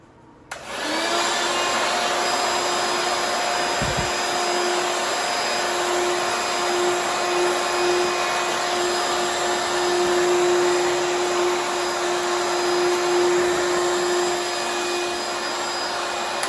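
A DeWalt wet/dry shop vacuum starts up with a click and roars at a loud, steady whine for the rest of the clip, close and unbroken.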